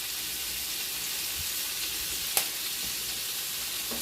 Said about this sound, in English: you want to stir it for about 2 minutes, just until it's good and fragrant